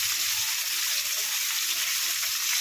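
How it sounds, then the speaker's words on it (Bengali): Cabbage and mixed vegetables fry with spices in hot oil, a loud, continuous bright sizzle with faint stirring underneath and no speech. "গাঁটগুপি আর মিজিটাকে ভালো করে একসঙ্গে মশলার সাথে তেলের মধ্যে ভালো করে কষে নেব।"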